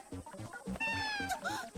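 A cat meows in a short, drawn-out, rising and falling cry over soft background sounds, close and fairly clear.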